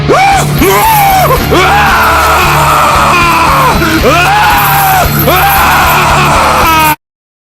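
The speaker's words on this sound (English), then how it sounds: "that turns on the animatronic because you trip the sensor and it starts screaming and yelling at you" A Halloween prop animatronic lets out loud, harsh screams and yells in repeated bursts, a close, distorted voice wailing over a steady electronic hum before cutting off abruptly.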